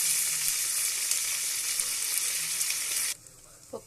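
Oil sizzles steadily as a dal tempering fries with garlic, dried red chillies, cumin and curry leaves. The bright, crackling hiss runs loud and continuous for about three seconds, then cuts off abruptly, leaving a faint clink.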